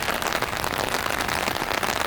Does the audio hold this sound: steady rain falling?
yes